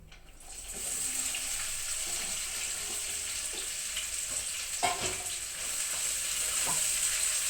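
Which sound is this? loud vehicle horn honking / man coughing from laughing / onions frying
onions frying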